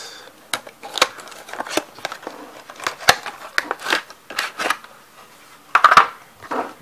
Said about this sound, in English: Cut that open. Nice like this. Just destroy the box.